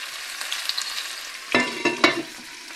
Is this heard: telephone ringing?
no